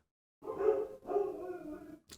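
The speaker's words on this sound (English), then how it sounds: "Those are my dogs barking right at the end." Two dogs' barks sound in quick succession, moderately close and clear, each followed by a brief trailing tail of sound, with no talking over them.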